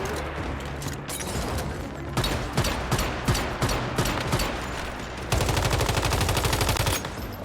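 Sustained automatic gunfire rattles through a battle in the survival shooter game Once Human, rapid loud bursts that build into a dense, even stream of shots near the end.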